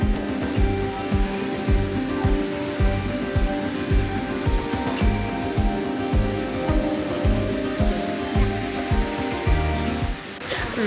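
Geneva's Jet d'Eau fountain roars steadily nearby, a dense, continuous rush of water forced high into the air, with no voices over it.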